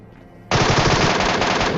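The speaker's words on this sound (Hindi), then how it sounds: "MK14 जब मैंने चलाई थी जस्ट एक बुलेट चलती हुई सुनाई देगी होगी इनको" Sudden loud burst of rapid rifle fire from a video game, a dense sustained volley of shots lasting over a second after a quiet start.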